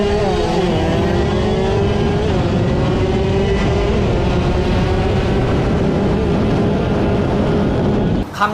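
A modified Honda Nova 110 two-stroke motorcycle engine with a 59 mm piston and reed valve revs hard and close, a loud sustained buzzing wail held high for several seconds before cutting off abruptly.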